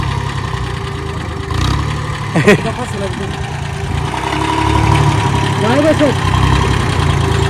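A tractor engine idles with a steady low rumble close by, while people talk over it.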